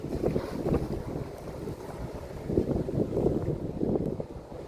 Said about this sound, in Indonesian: Tuh lihat tuh ombaknya guys, tuh bergulung-gulung itu ombaknya guys